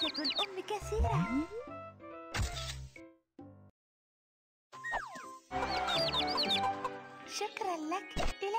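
A cartoon hen clucks and chirps in an animated children's show about building animal houses, with short squawky bird calls coming in bursts between lively music and voiced dialogue and a brief silent gap midway.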